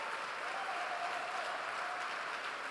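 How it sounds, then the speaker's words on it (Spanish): Church congregation at a Sunday worship service applauding, a steady dense wash of clapping from many hands, even and unbroken for a few seconds. "Ponte de pie y dale un fuerte aplauso."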